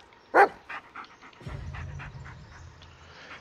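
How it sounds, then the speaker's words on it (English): A dog in the video game Blair Witch gives one sharp bark, then pants rapidly and steadily at close range, with faint soft clicks around it. "Listen to his barking and watch his body language."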